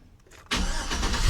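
A Chevrolet Silverado pickup truck engine cranks briefly and catches, settling into a loud, close, steady rumble with no talk over it.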